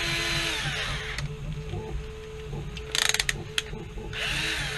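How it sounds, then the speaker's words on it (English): A power drill with a 1/8 inch bit whirs loudly up close in two sustained bursts while drilling a Nerf blaster part, with a short run of quick mechanical clicks between them. "we'll use a 1/8 inch drill bit."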